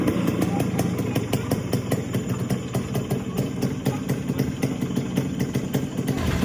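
A Yamaha RX motorcycle engine idles close by in a steady, rapid two-stroke putter, loud and continuous throughout with no break in rhythm.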